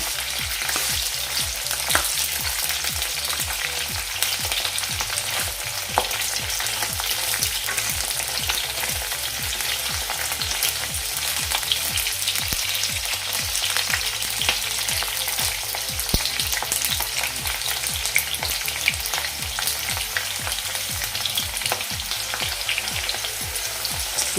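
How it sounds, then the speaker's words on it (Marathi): Okra (bhendi) frying in a pan for bhendi masala, a loud continuous close sizzle with rhythmic scraping stir strokes throughout and no voices. "इथे भेंडी मस्त फ्राय झाली आहे"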